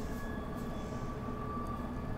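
A London Underground S8 train in Train Simulator 2019 rumbles steadily with a low running drone and faint high whine, continuous and moderately quiet, no talk.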